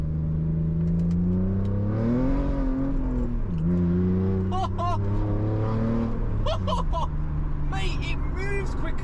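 A BMW 3 Series with a newly fitted exhaust revs up loudly and close, its engine note rising and falling in a deep rumble, while people talk excitedly over it.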